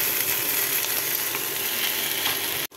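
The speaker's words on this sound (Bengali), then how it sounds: "এখন নুডলস ছেড়ে দিব।" Noodles hitting a hot frying pan with fried egg give off a steady, close broadband sizzle with faint scraping clicks, ending in a brief dropout.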